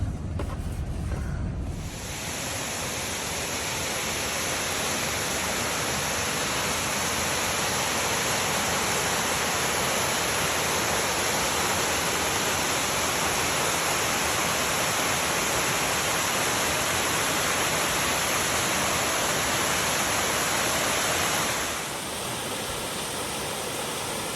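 Jacobs Falls, a waterfall in Michigan's Upper Peninsula, roars as a dense, continuous rush of falling water, loud and steady throughout, with no voices over it.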